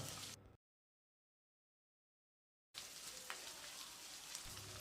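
Steady sizzling of onion, ginger and garlic sautéing in a hot pan, broken by a couple of seconds of silence before the crackle resumes.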